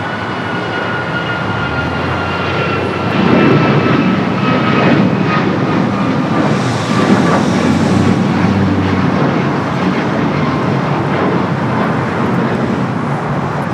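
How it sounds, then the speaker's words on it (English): United airliner bound for Dallas rolling down runway 25 Right at LAX, a loud continuous engine roar that swells a little midway and keeps on for over thirteen seconds with no talk. "United flight heading to Dallas, now rolling down at 25 right"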